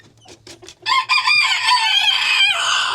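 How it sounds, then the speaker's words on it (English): A rooster crows loudly and close by after a few soft clucks, its drawn-out call overlapping with more crowing from nearby birds. "a lot of these roosters make me deaf"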